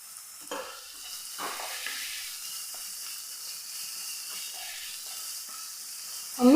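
Onions and green chillies sauté in a pan for samosa filling, a soft steady sizzle broken by a few scraping stirs, ending in a louder clatter.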